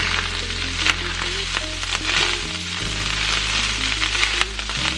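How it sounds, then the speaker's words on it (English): Vegetables are stirred into a hot pan and sizzle steadily, a continuous near frying hiss with a few scraping stirs and light clinks, no voices. "Now we are going to bring over our veggies and we're just going to give that a mix."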